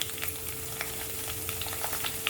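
Sliced green chilies fry in hot oil in a pan for a Kerala kappa and fish biriyani, giving a steady close sizzle dotted with small pops and crackles, with no talk.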